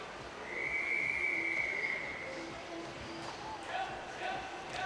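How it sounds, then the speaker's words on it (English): Referee's whistle at a university long-course swimming championship, a long steady blast followed by a few shorter faint whistles over crowd murmur and an announcer talking. "just a few more whistles to hear"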